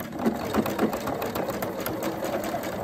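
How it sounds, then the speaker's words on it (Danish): Sewing machine stitching a one-centimetre side seam on a circular-cut skirt, a steady close whirring run with faint rhythmic needle pulses throughout. "Så skal jeg sy sidesømmen her med en centimeter."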